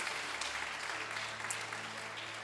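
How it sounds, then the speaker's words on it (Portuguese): A church congregation applauds in a steady, moderately loud wash of clapping, with a low organ-like tone sounding underneath. "Dê uma forte salva de palmas ao teu Deus em nome de Jesus."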